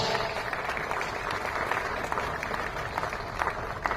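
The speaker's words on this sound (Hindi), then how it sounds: "तो जोरदार तालियां" An audience at a coaching institute seminar applauds, a dense, steady wash of clapping that holds at an even level throughout with faint crowd murmur underneath.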